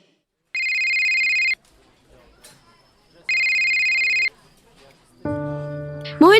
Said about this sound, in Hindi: मोहित डिसाइड नहीं कर पा रहा था कि मीरा का वो फोन पिक करे या नहीं।